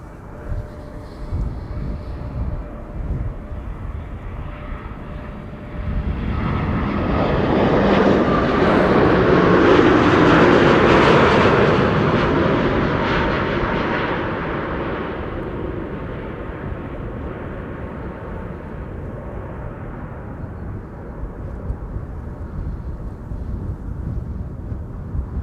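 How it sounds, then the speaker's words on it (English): A KLM Boeing 787 Dreamliner on flight 668 from Austin, Texas, arriving at Amsterdam Schiphol, its jet roar swelling loud and close overhead, then fading into a long rumbling tail. "another 7879 Dreamliner is arriving from Austin, Texas"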